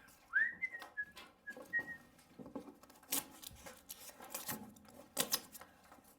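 A person whistles a few short, bright notes near the start while working, then light knocks, taps and rustling of handling trim and tools carry on at moderate level.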